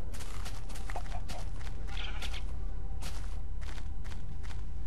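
Sheep in the video game Minecraft bleat several times in short, separate calls over a faint background, with light footstep sounds in between.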